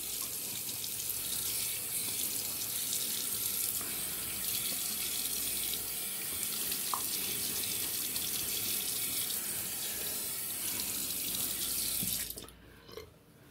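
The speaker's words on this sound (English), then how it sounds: "So I'm gonna rinse off the face" Tap water runs steadily from a bathroom faucet into a sink as a face is rinsed after a safety-razor shave, a continuous close hiss that cuts off near the end.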